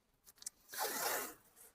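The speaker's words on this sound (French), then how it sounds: "on va commencer par mettre un petit morceau de scotch" A short piece of adhesive tape rips free in a single quick, bright tear, preceded by a couple of faint taps, close and isolated.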